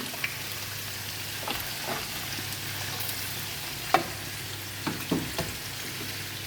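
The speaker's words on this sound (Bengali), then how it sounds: "এর জন্য মাছটা দিয়ে দিলাম বাজা আর এখানে পেঁয়াজ দিয়ে দিলাম পেঁয়াজ আর রসুন" Koi fish frying in oil with onion and garlic, a steady, moderately loud sizzle with occasional spatula scrapes and light taps, no talking.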